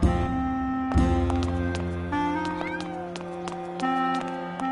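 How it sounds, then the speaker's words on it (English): Game cat meows in Grim Fandango, repeated short cries over a tonal musical backdrop with steady background score, moderately close and clear. "Cats again?"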